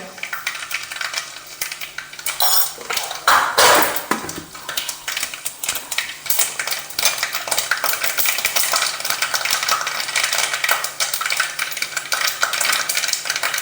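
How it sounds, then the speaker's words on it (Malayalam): Mustard seeds drop into a hot pan (chatti) and crackle and pop in dense, irregular bursts, a close sizzling patter that runs on steadily with a louder clatter near the start. "കടുകിട്ട് കൊടുക്കുക"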